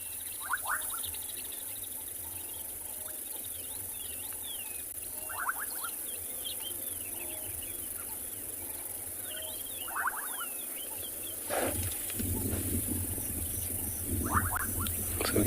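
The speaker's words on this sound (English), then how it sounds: "It's my favorite frog call." Bubbling kassina frogs call in South African wetland at dusk, short bubbly pops repeating every few seconds at moderate distance over a steady insect hum, with rustling and light noise near the end.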